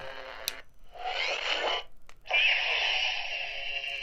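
A toy Ahsoka Tano lightsaber from Savi's Workshop gives a buzzing electronic hum with a hissy, staticky edge, cutting in and out in short bursts, close and steady when on.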